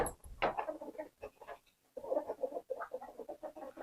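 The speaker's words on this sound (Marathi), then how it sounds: "आता कोंबडी दाखवतो तुम्हाला" Village chickens, both native and foreign breeds, cluck in a short, irregular run of calls at close range with no talk over them.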